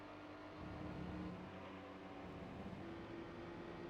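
Mini Cooper, Daihatsu Mira and Suzuki Alto Works racing in Gran Turismo 3, their small engines blending into a steady, continuous drone that swells slightly partway through, with no talking.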